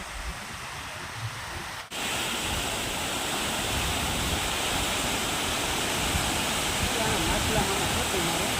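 A loud, continuous rush of falling water fills the scene after a brief cut, steady and roaring with no pauses.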